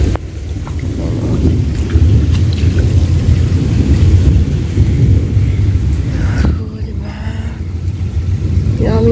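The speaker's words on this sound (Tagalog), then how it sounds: "naririnig nyo guys ng lakas ng kulog." Loud, steady downpour during a flooding storm with deep rumbling thunder rolling underneath, continuous and close throughout.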